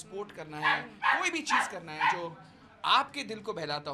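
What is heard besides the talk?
dog barking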